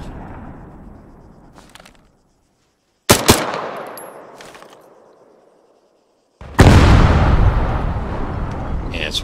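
Barrels exploding in a video game: three booming blasts, each with a sharp crack followed by a long rumbling decay, the last one loudest and sustained, separated by brief gaps of quiet.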